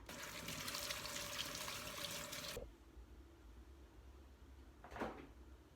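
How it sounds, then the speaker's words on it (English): Water from a running kitchen tap splashes over Brussels sprouts in a colander, a faint steady rush that stops abruptly, followed by a quieter room tone and one brief knock. "we're going to rinse them under a running tap"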